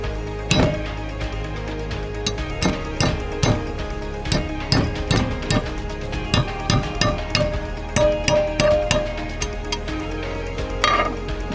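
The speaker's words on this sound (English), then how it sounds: "Gotta drive the clip on there with the hammer, so it's hammer time." Repeated sharp metallic hammer strikes drive a clip onto an RV towing hitch, ringing out in an uneven rhythm, close and loud, with brief pauses between bursts.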